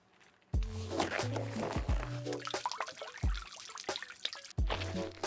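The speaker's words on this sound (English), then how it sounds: "grabbed some Sculptamold, I mixed it with water till it was nice and spreadable" Sculptamold terrain paste being stirred with water in an old rusty mixing cup, giving wet sloshing, dripping and clinking sounds in irregular bursts, close and fairly loud.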